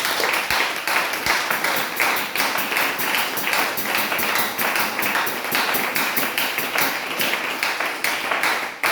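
A church congregation applauds steadily and densely, the clapping loud and continuous throughout with no break.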